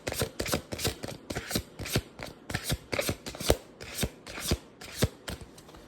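A deck of Oracle of the Witch oracle cards being shuffled by hand, a close, crisp run of rhythmic riffling slaps repeating about twice a second with no talking.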